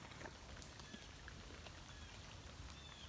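Steady rain falling outdoors on a fishing outing, a soft continuous patter with scattered droplet taps, faint and even throughout with no talking.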